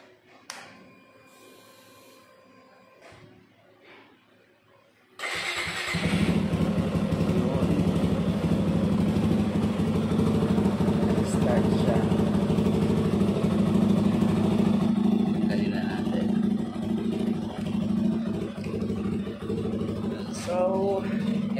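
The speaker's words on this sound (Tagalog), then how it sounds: "So yan, nakakonect na yung jump starter. Then try natin kung" A Suzuki Gixxer 155 motorcycle hooked to a jump starter fires up after a quiet pause and then idles steadily and loudly nearby, with a brief rise in revs toward the end.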